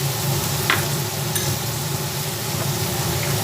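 Turmeric powder fries in a pan for an egg and potato curry, giving a steady, close sizzle with a few brief stirring scrapes and clinks over it.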